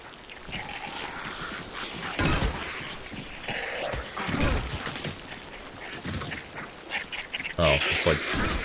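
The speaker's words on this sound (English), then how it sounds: "Oh, it's like a bunch of ducks. Bunch of baby ducks." Ducks quacking in the video game Hunt: Showdown 1896 come in scattered bursts throughout, mixed with game noise and background sounds.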